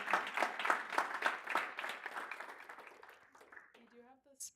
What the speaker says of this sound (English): Can we get another round of applause for Jordan and Vanessa?